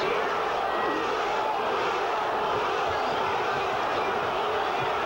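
A partisan boxing arena crowd roaring and cheering for Zaragoza during a title fight, a dense, continuous wall of voices at a steady high level.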